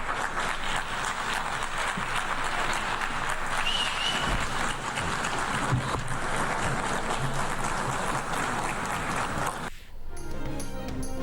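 Sustained applause fills a large room with dense clapping for about ten seconds, then cuts off abruptly.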